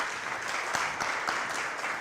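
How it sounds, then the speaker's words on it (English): Applause from an audience at a pitch contest, steady dense clapping that holds evenly throughout without talk. "Give her another round of applause."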